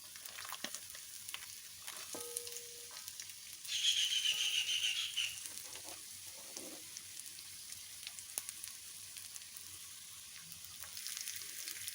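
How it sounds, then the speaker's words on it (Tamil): Thin half-inch pieces of coconut deep fry in hot oil, giving a soft, steady sizzle with a brief louder burst of bubbling partway through, fairly quiet with light kitchen clatter and no talking. "நல்ல டீப் ஃப்ரை பண்ணுறது."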